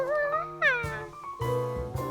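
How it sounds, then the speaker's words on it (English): A cartoon cat meows from inside a wall, a run of clear, drawn-out meows that rise and fall, loud and close, with no talking. "Please keep that cat away."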